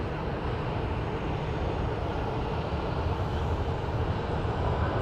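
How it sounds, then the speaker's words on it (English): A DHL Boeing 737 lands at Phoenix Sky Harbor airport, making a continuous broad roar of jet engine and rushing air that holds loud and steady throughout, with no talk. "we have a plane landing on my favorite runway. That is a DHL 737 with the nose cone that does not match"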